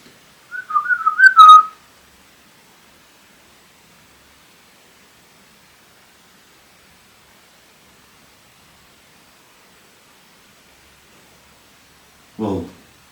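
In a church, a short rising whistle warbles for about a second, then long silence, followed by a brief lower whistled or voiced sound near the end.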